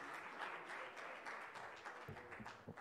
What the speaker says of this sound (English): Can we have a final round of cheer there for Lara Balsara?